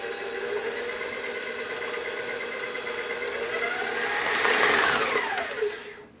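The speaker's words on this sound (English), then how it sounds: "So I've mixed it for about 20 to 30 seconds at this point." A stand mixer runs steadily as it mixes gluten-free baguette dough, with a constant whirring motor hum that swells slightly toward the end before cutting off, close and alone.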